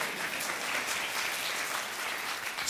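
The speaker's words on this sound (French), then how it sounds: "On l'applaudit aussi." A congregation applauds during a sermon, producing a steady, even wash of many hands clapping at moderate distance, sustained throughout without any talking.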